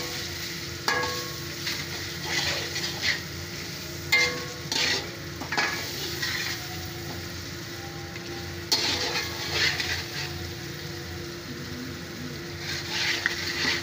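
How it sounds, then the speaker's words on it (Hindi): Food being stirred and fried in a pan, with salt added, gives a steady soft sizzle broken by repeated scraping and clattering strokes of a utensil throughout, close and moderately loud, with no talking. "अब इसको मिक्स करेंगे।"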